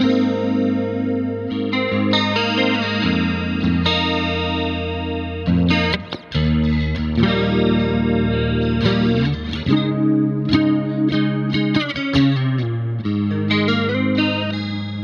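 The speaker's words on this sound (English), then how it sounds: "I got a 120. Jazz chorus 120." An electric guitar through a Valeton GP-50 multi-effects unit on its Jazz Chorus 120 amp preset plays sustained chords with a shimmering, wide chorus effect and slight grit, loud and continuous.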